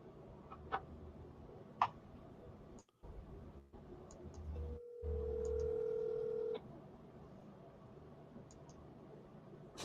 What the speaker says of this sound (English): Your phone is calling you, Bill.